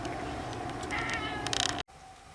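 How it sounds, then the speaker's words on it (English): A cat meows on a doorstep outdoors, a few drawn-out, fairly close calls over steady background noise, ending with a brief cutoff before quieter ambience resumes. "I don't want a cat living on my doorstep."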